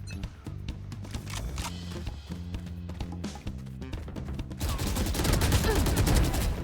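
Gunfire in a Valorant deathmatch: rapid bursts of close, sharp shots with brief gaps, then a denser and louder stretch of continuous shooting toward the end.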